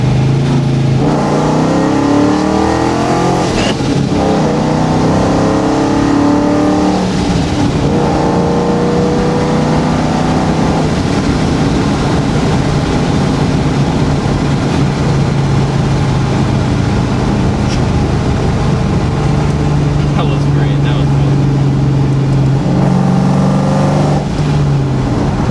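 A supercharged New Edge Ford Mustang running about 11 psi of ProCharger boost pulls hard through second gear, its engine note rising and droning loudly and steadily with a brief dip mid-pull, close and alone.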